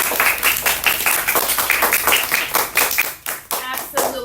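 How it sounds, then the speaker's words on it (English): A class of young second-grade children claps for a classmate in a rhythmic, patterned group clap. Bursts of quick claps come in even beats, close and loud, and a few voices of children break in near the end. "Oh my goodness, clap for her."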